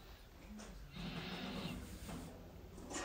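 Horse neighs on a horse farm in winter: a few whinnies rise and fall over about three seconds, fairly close and clear, with no talk over them.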